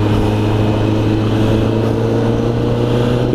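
Kawasaki ZX10R sport motorcycle being ridden, its engine a steady, loud droning hum with constant wind rush, no change in pitch over the short span.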